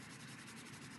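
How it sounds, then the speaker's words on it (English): A paintbrush rubs and smushes yellow paint across a gel printing plate, giving a steady, close scratchy scrubbing with a faint rhythmic pulse and no talk. "Take my brush and just kind of rub it in there"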